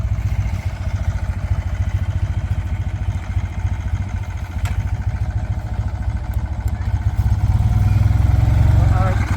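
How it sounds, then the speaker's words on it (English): A BMW motorcycle idles with a throbbing, pulsing engine beat, then revs and grows louder as it pulls away, close by. "That's Harry on his BMW."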